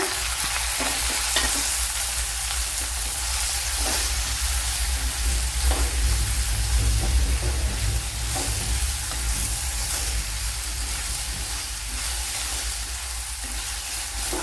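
Chopped okra hits a hot pan of oil for a Kerala-style curry and fries with a loud, steady, close sizzle that runs unbroken throughout, with faint stirring scrapes underneath.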